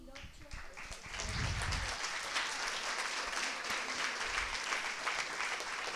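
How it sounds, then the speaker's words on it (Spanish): An audience at a hospital event on traditional medicine and complementary therapies breaks into applause, swelling after a brief moment of talk and then holding a steady, close clatter of clapping. "Realmente es para aplaudirlos."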